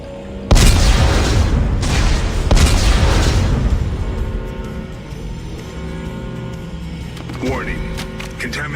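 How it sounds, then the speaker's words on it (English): Explosives detonate in the sci-fi video game Dead Space 3: a loud, close double boom with deep rumbling bursts, trailing into a long low rumble and debris clatter. "Computer, arm explosives."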